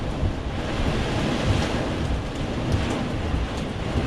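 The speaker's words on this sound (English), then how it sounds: "Here's the hail." Hail pours down during a tornado warning as a dense, continuous roar of rushing, pattering noise, loud and steady throughout with no voices.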